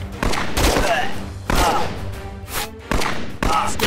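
Single gunshots fired left-handed in the VR shooter game Operation Serpens, four or five sharp, loud reports spaced about a second apart, each followed by a short ringing tail.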